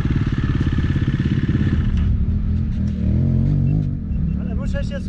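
A dirt bike engine revs and idles loudly and steadily up close while warming up for sand riding, with voices talking over the engine noise throughout.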